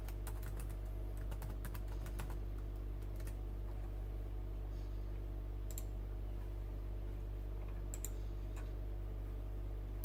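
Quiet, sparse clicks of computer keyboard arrow keys being pressed one at a time during a keyboard test, faint and irregular over a steady low electrical hum.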